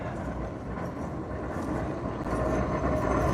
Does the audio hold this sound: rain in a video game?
no